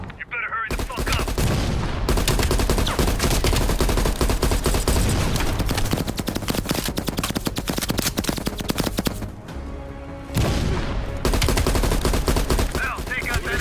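Heavy machine gun fire in a Black Ops Cold War ridge battle, loud, nearly continuous rapid gunfire with dense overlapping shots and short breaks, voices faintly mixed underneath.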